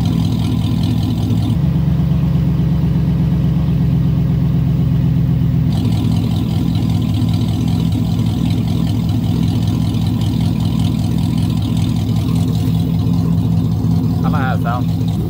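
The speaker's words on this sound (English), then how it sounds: "You should be able to hear the idle a lot better now too." Car engine idling after an exhaust modification with the third component removed, a steady low rumble that holds throughout, with talk over parts of it.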